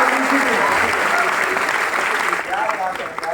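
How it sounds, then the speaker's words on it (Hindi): Loud, dense audience applause fills a meeting hall at a Vestige gathering, a steady wash of many hands clapping at once that holds its strength for several seconds before easing slightly near the end. "जोरदार तालियां होनी चाहिए आगे।"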